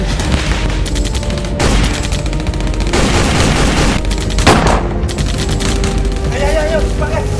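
Gunfire rattles through a short-film battle scene, with repeated bursts and single shots cracking over a loud, busy background and shouting voices throughout.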